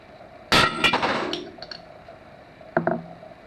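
A front wheel bearing is pounded out with a hammer: two loud metallic clangs close together, a ringing decay, then a third lighter strike a couple of seconds later, close and alone.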